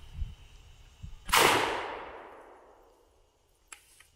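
A single loud gunshot from a modified Hatfield shotgun fired at AR500 steel plates, a sharp blast with a long decaying echo, then a faint metallic clink of the plate.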